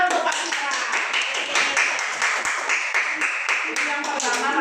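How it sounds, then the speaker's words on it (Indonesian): A room of participants at a numeracy dissemination training at an Islamic primary school in Riau applauds for a presenter: dense, steady clapping holds for several seconds at moderate loudness, with a voice faintly underneath. "Tepuk tangan untuk Pak Fitra."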